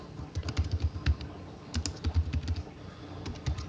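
Someone types a blog comment on a computer keyboard, with close, clicky keystrokes in quick bursts. Short pauses separate the bursts, and no one talks.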